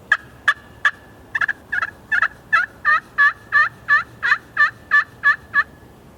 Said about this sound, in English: when I hear that closer gobble